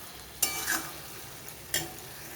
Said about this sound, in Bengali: এবারে আমি মশলার সাথে মাংসটাকে খুব ভালো করে কষিয়ে নেব।